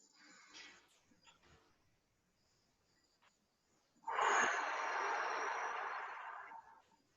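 A deep, long inhaled breath during a tai chi exercise with small weights, rising suddenly after faint sounds and holding steady for a couple of seconds, close and fairly loud.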